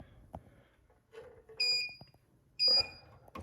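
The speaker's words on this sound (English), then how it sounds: "This is normal for it to beep, and the reason is, okay, is because the charger isn't hooked in." Stair lift beeping because its charger is not connected: two short, loud high-pitched electronic beep bursts about a second apart, over faint background clatter.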